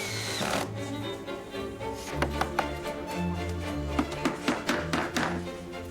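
A sharp chisel carves into a clamped piece of wood on a workbench, a string of quiet, irregular cutting taps and scrapes that grow more frequent toward the end.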